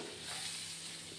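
Potatoes sizzle in a pan as they are tempered with turmeric powder for a simple home-cooked lunch, a brief faint steady hiss.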